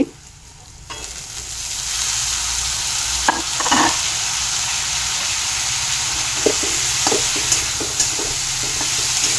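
Cauliflower pieces frying in a pan for potato-cauliflower paratha give a loud, steady hiss of hot oil, with occasional soft clicks from a stirring utensil and no voices.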